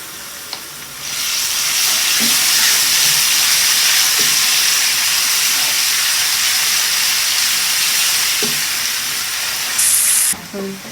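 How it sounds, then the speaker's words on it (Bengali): Garlic added to browned onions in a hot pan, bursting into a loud, broad hiss that holds steady for several seconds, with a few utensil clinks and a sharp final clatter near the end. "এখানে দিয়ে দিচ্ছি রসুন"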